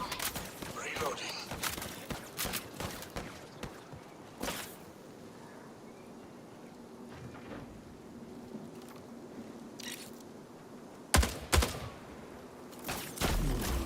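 Gunfire in a video game: scattered sharp shots and bursts, louder at the start and again near the end, separated by a quieter stretch of low ambience.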